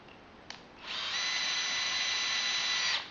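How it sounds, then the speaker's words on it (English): Electric screwdriver driving a screw into solid wood on a craft cart, a small click followed by a steady, close motor whir that runs for about two seconds and then stops. "you want to be somewhat gentle with your electric screwdriver"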